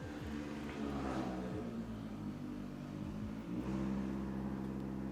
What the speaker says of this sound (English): just a loud ass car.